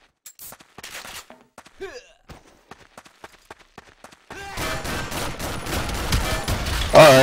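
Video game shooter gunfire: sharp isolated shots ring out over near silence, then a dense, loud stretch of rapid fire and blasts follows, with a voice briefly heard.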